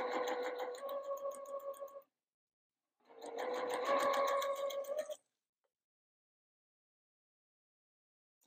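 Sewing machine stitching quilt fabric, two steady close runs of rapid stitching of about two seconds each separated by a short pause, then silence, no talking.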